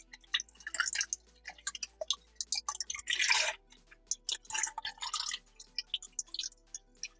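Used engine oil from a high-mileage Toyota Prius runs and splatters into a drain pan beneath the car, heard close up as an irregular series of wet drips and splashes with no talk.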